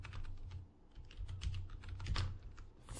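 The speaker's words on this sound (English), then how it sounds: "So we're going to type in, it's better if it's capital, unearned retainer" Typing on a computer keyboard while entering an account name in accounting software, soft clustered keystrokes at steady desk distance over a low background hum, with no talk.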